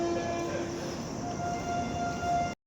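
A train pulls out of a station platform at night, with a steady low rumble of rolling wagons and a sustained horn-like tone held throughout, ending abruptly.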